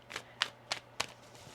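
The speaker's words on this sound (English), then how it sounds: "One more shuffle." Tarot cards being shuffled by hand, four quick soft riffling bursts in a steady rhythm, close and quiet with no talking.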